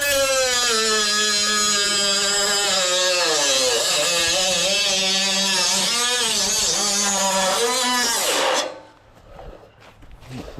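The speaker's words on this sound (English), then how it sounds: "Take the cut-off wheel and finish the 45." A cut-off wheel grinds a 45° angle into a metal gutter, making a loud, high, continuous whine with wavering pitch that cuts off sharply near the end, leaving quieter background noise.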